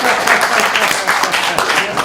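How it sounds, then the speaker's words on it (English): Applause from an audience at a conference panel on geopolitical conflict, dense close clapping filling the whole moment at an even level. "I need to give myself a round of applause"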